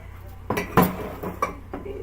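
Vegetable soup being served into small ceramic bowls, with a few sharp clinks of dishes and utensils spaced irregularly over a quiet room, close and moderately loud.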